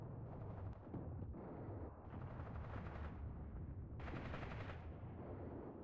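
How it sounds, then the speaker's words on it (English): Distant gunfire from a T-34 tank and surrounding battle in the Mius Front war game, with repeated muffled booms and rumbling shots. "I can still hear this damn T-34 firing here."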